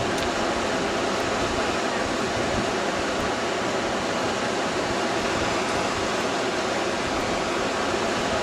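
A steady, dense rush of river water, a dubbed-in sound effect, runs unbroken and fairly loud as a broad hiss with no clear pauses or other events.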